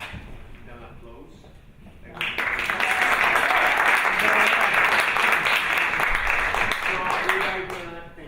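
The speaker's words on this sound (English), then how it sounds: "Then applause." Audience applause for four actors standing up at a play reading, a quiet murmur giving way around two seconds in to loud, sustained clapping that holds steady and tapers slightly at the end.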